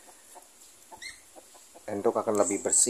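Village chickens on a farm plot beside a ditch and coop, with a rooster giving several short clucks up close near the end, after someone speaks over quiet background.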